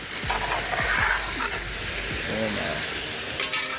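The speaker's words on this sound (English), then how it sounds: "I'm just gonna cook this down in the bacon grease." Pork meat sizzles in bacon grease in a pan for jambalaya, a loud, continuous frying hiss broken by scraping stirs, with a short spoken word.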